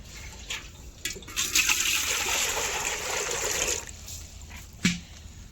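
Hands are washed under running water, a steady splashing stream heard close for several seconds that ends with a short clatter, with no talking.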